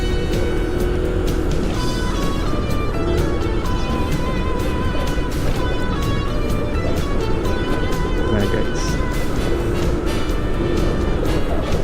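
Motorcycle ridden through the drop-off and departure area at Clark International Airport, a steady, loud engine and road rumble with wind noise filling the whole stretch and small bursts of traffic clatter.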